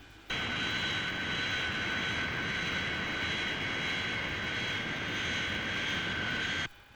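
A Fireflash jet airliner sound effect from the Thunderbirds series: a loud, steady roaring whine that cuts in abruptly, holds evenly for about six seconds, then stops sharply, with no voices.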